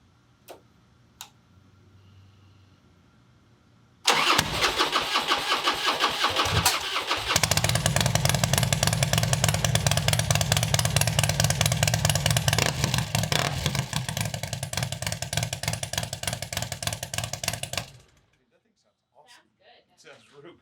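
A custom bagger motorcycle on three-year-old fuel cranks and starts with a sharp burst, then idles loudly with a steady ticking, throbbing engine note for about ten seconds before shutting off.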